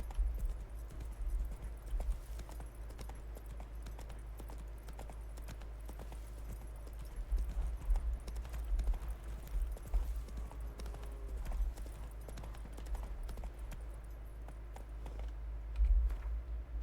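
Roach, a horse in the video game Witcher 3, trots with steady, rhythmic hoof clip-clops over a low rumbling game ambience, continuing throughout at a moderate, even pace.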